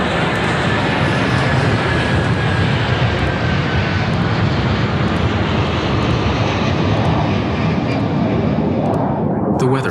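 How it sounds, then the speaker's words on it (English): An Airbus A330 jet taking off from Toronto, its engines a loud, steady broadband roar that holds for the whole stretch before easing off at the very end, with no talk over it. "At 10 minutes past 8, the Airbus A330, loaded with over 47 tons of fuel, left Toronto for Lisbon."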